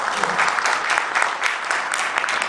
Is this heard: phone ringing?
no